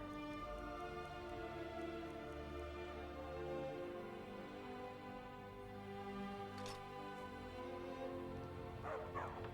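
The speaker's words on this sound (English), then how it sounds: "Stupid dog." A dog barking in Skyrim VR, faint yips and woofs mixed into a continuous bed of game music and ambient sound.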